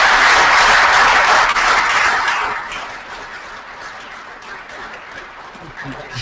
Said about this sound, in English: A round of applause for Doak Ostergard stopping by.